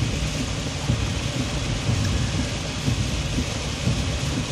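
Steady heavy rain on a Fourth of July night, with low rumbling thunder rolling underneath the constant downpour, close and enveloping throughout.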